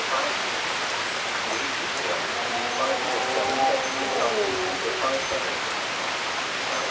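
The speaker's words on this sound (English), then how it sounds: "There's rain coming inside the porch right now." Heavy rain lashing a porch in a severe thunderstorm with gusty winds, a dense steady hiss close by, and a voice speaking briefly over it.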